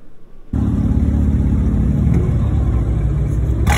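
A BMW M4 engine starts up loud and close after a brief quiet moment, then holds a deep, steady rumbling idle with a throaty low drone and a slight rise in revs near the end.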